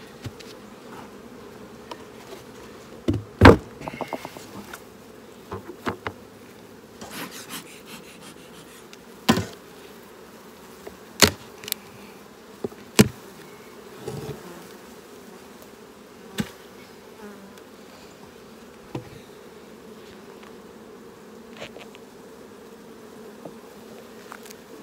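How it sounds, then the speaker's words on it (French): Honey bees in an open hive, the colony crowded on the frames, keep up a continuous low hum throughout. Occasional sharp knocks and clicks from handling the frames punctuate the buzzing. "Il y a vraiment beaucoup d'abeilles, c'est difficile à voir."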